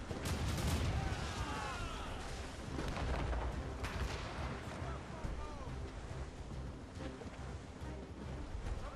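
Ship cannons fire in a naval battle aboard the Morrigan in Assassin's Creed Rogue, a dull, muffled rumble of booms under a constant wash of wind and sea noise, distant and low in level.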